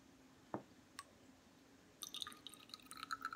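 A water sample is pushed from a syringe into a small glass test vial for an aquarium alkalinity test: a few faint, isolated drips at first, then a short run of soft, quick splashes and trickles, close and quiet with no talk.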